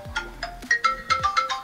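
A smartphone rings with a melodic electronic ringtone after a smartwatch's find-phone feature is triggered, a clear, loud run of repeating tonal beeps and chimes in quick rhythm, heard alone without talk.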